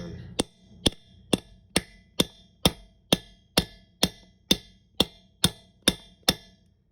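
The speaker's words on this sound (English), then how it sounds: "I'm going to just hammer this on." Metal hammer strikes drive a 12 mm socket onto a stripped 13 mm nut on a Toyota bolt, about fourteen sharp, loud, evenly spaced blows with ringing decay, close up and with no talk.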